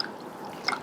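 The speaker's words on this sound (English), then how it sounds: "So I'm going to add a bit of water to that." A small splash of water goes into a Gujarati-style kadhi, a yoghurt soup mixture, giving a faint, brief drip and trickle near the end of an otherwise quiet moment.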